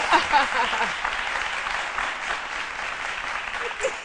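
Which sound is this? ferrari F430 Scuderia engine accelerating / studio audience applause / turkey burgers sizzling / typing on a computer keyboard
studio audience applause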